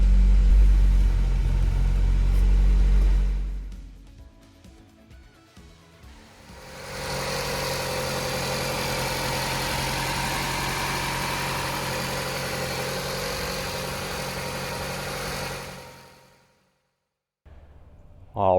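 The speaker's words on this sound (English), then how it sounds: "So I'm gonna go ahead and let this engine idle for a few minutes." Honda H22 DOHC engine idling after a cam seal and timing belt replacement, a steady continuous hum and rumble that drops away briefly, then resumes evenly before cutting off near the end.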